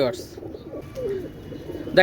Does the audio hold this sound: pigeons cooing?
yes